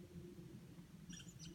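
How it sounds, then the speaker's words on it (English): A squirrel chirps in quiet woods during an archery hunt, a short series of faint, high, bright calls near the end over a steady low rumble of wind or background noise. "Pretty quiet except for that squirrel going off."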